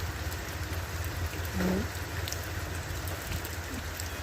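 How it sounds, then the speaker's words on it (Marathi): Rain falling steadily outdoors, a continuous close patter and hiss with drops striking surfaces, even in loudness, with a brief spoken word partway through. "सुंदर असा पडणारा पावसाचा नजारा"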